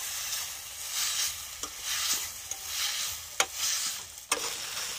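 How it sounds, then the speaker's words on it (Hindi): Tomatoes and beans sizzling in a pan while being stirred, a soft continuous fry broken by a few sharp spoon knocks against the metal. "इस तरह से हम चला के अच्छे से फ्राई कर लेते हैं, इसी तरह से हम इसे चलाते रहेंगे"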